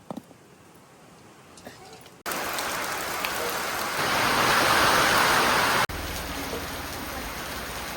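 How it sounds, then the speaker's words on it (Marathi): Wind gusts on a rural Maharashtra farm as rain approaches, a broad roaring rush that surges suddenly, swells louder, then drops back to a steadier blow. "वारं सुटलं पाऊस येऊ राहिला"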